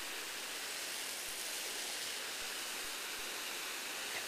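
A garden hose sprays water onto plants in a flower garden, a steady broad hiss of spray continuing evenly at low level with no voices.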